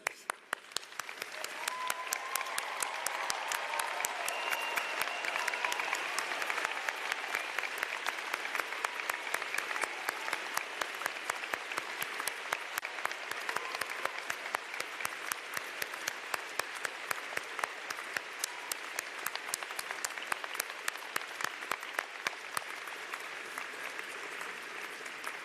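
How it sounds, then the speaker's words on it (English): Sustained, dense applause from a large audience giving graduates a standing ovation at a university spring convocation in an auditorium, steady and loud for the full stretch with no speech over it. "I think this moment merits a standing ovation"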